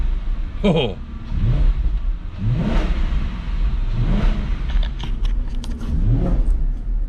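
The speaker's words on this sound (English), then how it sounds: "Let's give it a little rev." Audi C5 S6 engine revving several times after oil was added, repeated rising and falling surges over a steady idle, close and loud, with a voice talking over it.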